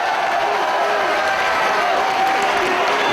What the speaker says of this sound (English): The sold-out crowd in New York City appreciative of the efforts of both these men, and Romero quickly back to his feet